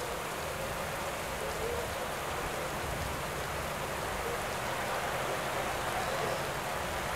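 Steady rain in the cycling game Pro Cycling Manager 2022, a continuous even hiss of falling drops at a constant level throughout, with no other clear sounds over it.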